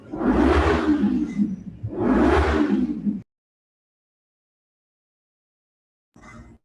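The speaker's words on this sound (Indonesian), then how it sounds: "ada suara sepeda motor" A motorcycle roars past in two loud, close engine surges lasting about three seconds in all. Near silence follows, then a faint rumble returns briefly at the end.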